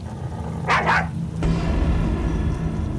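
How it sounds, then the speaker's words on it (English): A household dog barks a couple of times during a night of heavy rain and rumbling thunder, the barks fairly close and standing out over a steady low rain-and-storm background. "she began to hear their dog barking again"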